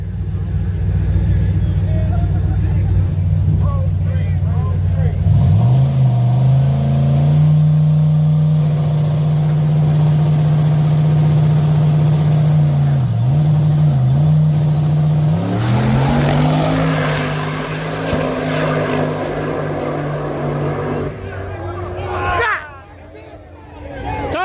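A truck and a Kawasaki ZX-10R 1000cc sport bike rev for a drag race, a steady low engine drone that climbs in pitch around the midpoint, with crowd chatter mixed in and loud throughout.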